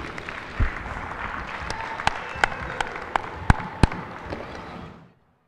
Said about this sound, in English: How about one more big round of applause for all seniors tonight?